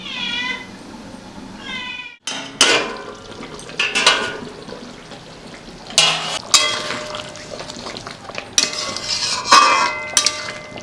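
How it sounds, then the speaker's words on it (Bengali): A cat meows repeatedly at the start. Then a lid clatters onto a pot of boiling chicken kofta curry, followed by several sharp metallic knocks and clinks of cookware at close range. "ঝোলটা ফুটে গেছে, এবার আমি ঢাকা দিয়ে দেবো"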